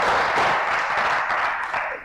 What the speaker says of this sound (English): Please, a round of applause for the excellent